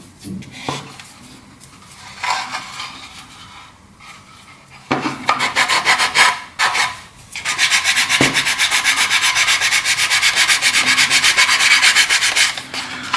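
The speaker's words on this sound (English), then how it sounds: "Now I could sit here and rub this all day" Hand-rubbing and rasping on a Dalek model part, starting as intermittent strokes, then settling into a steady, loud, continuous scrubbing rhythm for the last several seconds, close up with no voices.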